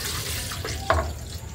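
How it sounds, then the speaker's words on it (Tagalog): Water pours steadily into a cooking pot while sinigang na bangus is being made, a close, continuous splashing rush with a brief brighter splash midway. "So, maglagay tayo ng tubig dito."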